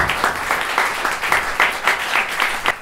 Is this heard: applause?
yes